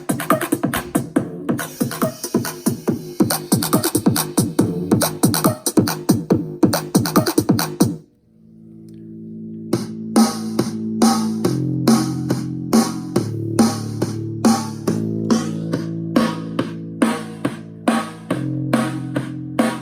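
Loud music plays at maximum volume through a small, cheap $10 Bluetooth speaker: a fast, punchy beat at first, then after a brief drop a slower thumping groove with strong bass.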